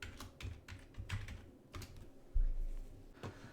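Quiet, close keystrokes on a computer keyboard tap out a password in short irregular clusters, with a firmer press near the end.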